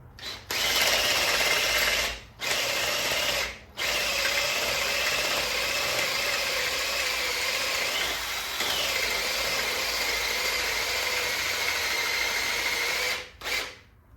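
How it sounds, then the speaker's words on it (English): A power drill bores a hole in metal, whining continuously at high speed, pausing briefly a few times before restarting, close and loud. "there's our drill bit, and we finished off opening that hole up"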